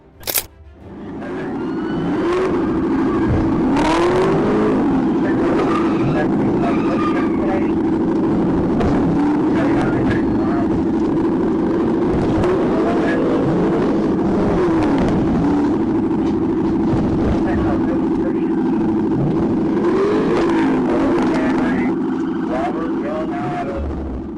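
A Camaro speeding away during a police chase, a steady loud roar of engine and road noise at high speed that continues unbroken, with a narrator talking over it.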